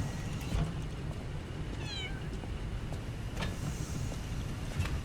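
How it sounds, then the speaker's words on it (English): A single short meow comes from a cat in the video game Lies of P, heard over a soft ambient background hum. "There's a cat."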